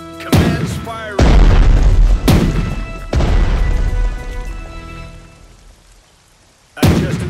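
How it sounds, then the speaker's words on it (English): Artillery in the video game Strategic Mind: Blitzkrieg fires in heavy booming blasts, four close loud shots with long rumbling decays, spaced about a second apart, plus one more after a pause. "Commence firing."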